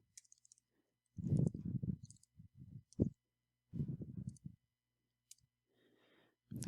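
Clicks from someone typing on a computer keyboard, in short scattered clusters of keystrokes separated by quiet gaps, close and fairly faint with no talking.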